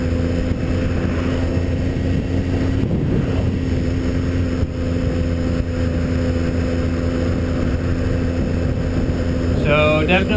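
Steady motorcycle engine drone while cruising on a Triumph Street Triple R, with heavy wind rush over the microphone throughout and a brief higher whine near the end.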